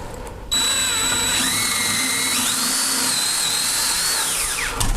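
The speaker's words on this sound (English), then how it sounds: "And you're just going to drill a 3/8" A power drill whines at high speed drilling a 3/8-inch hole, starting abruptly and shifting pitch as it bites into material, loud and close, then winding down at the end.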